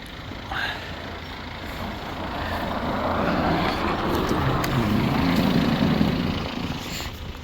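An MTZ tractor engine approaches in freezing winter weather, its diesel drone and rumble building gradually in loudness as it nears and then easing slightly, heard with no talk.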